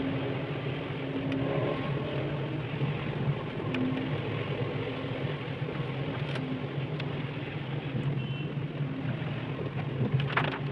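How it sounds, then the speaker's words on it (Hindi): Heavy rain pouring in the mountains, a dense steady hiss of drops on surfaces lasting throughout, with occasional sharper drips and a low rumbling undertone. "और न जाने ये बारिश कब रुकेगी"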